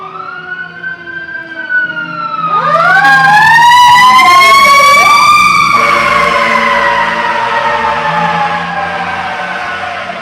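Fire truck sirens wail loudly as the trucks pass close by, with rising and falling tones sweeping over truck engine rumble that swell to a peak and stay strong to the end.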